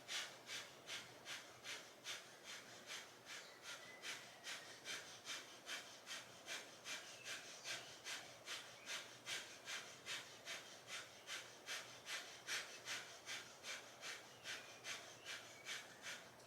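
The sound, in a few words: yoga breath of fire breathing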